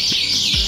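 Canaries in a breeding house chirp with a high, steady twittering, sharp short calls standing out over the constant chatter.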